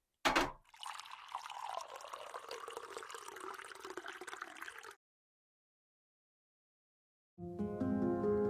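Tea is poured into a cup in a steady, continuous stream lasting several seconds after a brief clink, then stops abruptly, followed by silence and then music; no talk.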